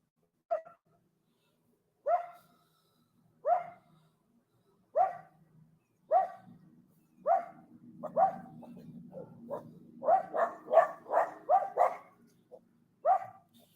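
Dogs bark in a steady series of single barks, spaced about a second and a half apart, then a rapid flurry of overlapping barks, with a low rumble and scuffling underneath.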